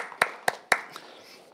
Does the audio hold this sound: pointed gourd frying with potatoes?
no